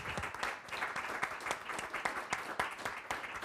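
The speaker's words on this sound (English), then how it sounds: "Can we have a round of applause for our..." An audience gives a round of applause at a session, steady dense clapping with distinct individual claps standing out, moderately distant and even throughout.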